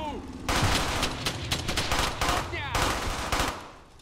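Gunfire in the World War II shooter game Brothers in Arms, loud rapid machine-gun bursts and single shots, close and dense, with game voices shouting in between.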